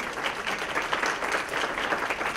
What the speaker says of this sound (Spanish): después les damos un aplauso muy grande